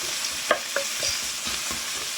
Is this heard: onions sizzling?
yes